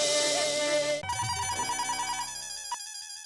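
A telephone rings loudly in a Hindi sitcom household, a steady electronic ringtone repeating its tone for about two seconds after a brief burst of other sound, then cutting off.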